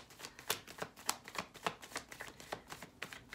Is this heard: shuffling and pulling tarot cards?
yes